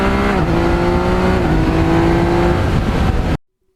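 A 2020 Yamaha MT-09 triple-cylinder motorcycle engine roars loudly and continuously, its pitch shifting as it revs and pulls through the power band, then cuts off abruptly.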